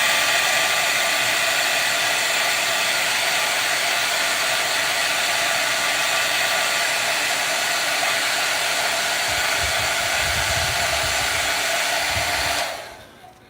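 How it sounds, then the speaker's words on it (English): A hair dryer drying wet paint blows with a steady, loud, close-up roar for about thirteen seconds, then switches off abruptly. "get your hairdryer out and dry it"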